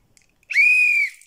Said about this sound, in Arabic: يا ده صوت عالي جدا دي صفارة يا أصحابي